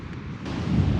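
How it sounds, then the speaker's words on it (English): Strong wind buffeting the microphone, a continuous low roaring rumble that swells slightly louder toward the end. "It's very windy here"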